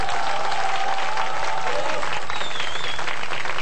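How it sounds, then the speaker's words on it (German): Dense, steady applause from an audience at the close of a live German stage show, many hands clapping at once and filling the room for the whole stretch. "Applaus"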